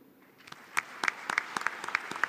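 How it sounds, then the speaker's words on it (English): An audience at a digital-era summit begins to applaud, starting as a few scattered claps that quickly thicken into a moderate round of clapping. "A round of applause for the Honorable Minister"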